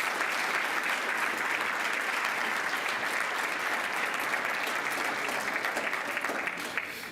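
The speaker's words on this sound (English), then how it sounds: "Could we have one more round of applause for those students?" Sustained applause from a ceremony audience honoring rising sophomore students, a dense steady clapping that fills the room for several seconds and tapers slightly at the end, with no voices over it.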